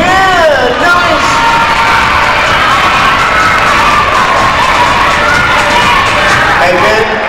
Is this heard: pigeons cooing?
no